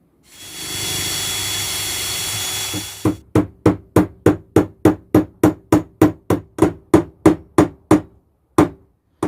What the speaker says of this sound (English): drill 2 little tiny pilot holes and then knock these in